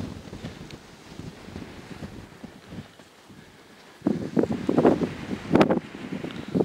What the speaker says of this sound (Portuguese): Hoje é o vento que tá fazendo esse frio, né?